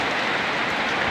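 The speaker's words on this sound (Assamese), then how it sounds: "এইয়া বৰষুণ বাপৰে কিছু বৰষুণ দিছে দেই" Heavy rain pouring down in a steady, dense hiss that fills the whole moment, loud and close with no break or talk over it.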